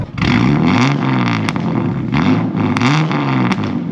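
A Ford Falcon with a Barra engine revs loudly and steadily nearby, a deep throaty roar with rising and falling pitch sweeps held throughout.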